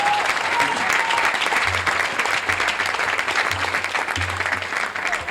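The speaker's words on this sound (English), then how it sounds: "Give him another round of applause." Sustained applause from a crowd, steady clapping filling the whole stretch with no pauses.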